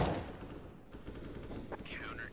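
Shooter video game gunfire: a quick burst of shots at the start and another sharp crack later, loud and close, over a steady game background hiss.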